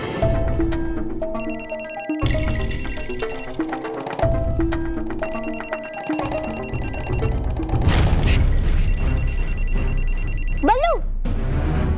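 A mobile phone ringtone plays loudly as a repeating melodic tune in bursts with brief gaps, over a dense musical and sound-effect background.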